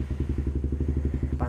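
An old Honda CB motorcycle being ridden on a hot day, its engine thumping in a steady, even rhythm close by, with a brief higher rattle near the end.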